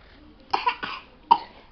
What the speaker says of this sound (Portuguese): E tosse, tosse,